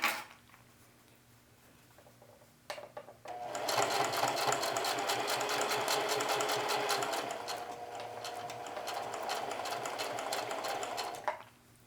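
A sewing machine stitching double rows on a denim jeans pocket: a few short stitch bursts at first, then a long steady run of rapid, even clatter lasting about eight seconds before stopping, close and clear with no talking.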